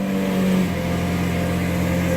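Lamborghini engine idling after being started, a steady loud droning rumble with a slight swell in the first half-second, heard close by without any voices.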